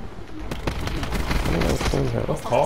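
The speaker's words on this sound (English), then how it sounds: "This guy sprayed all his bullets." Burst of rapid gunfire in Call of Duty: Black Ops 4 multiplayer, sharp shots cracking in quick succession over about three seconds amid other game noise.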